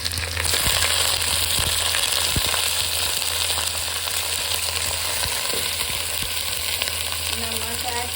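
Chicken frying in a pan with browned onions, a loud continuous sizzle with crackling spatter and occasional stirring, no talking.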